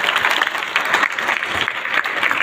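A comedy show audience breaks into steady, loud applause, a dense wash of many hands clapping at once, sustained without a break and no voices on top.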